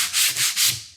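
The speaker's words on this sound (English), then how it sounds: "We're gonna use our sanding disc." A sanding disc rubbing chippy paint off a painted wood sign in three smooth, loud back-and-forth strokes, each a rasping swell of abrasion followed by a fading tail.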